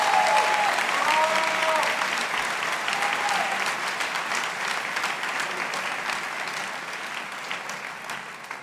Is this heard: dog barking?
no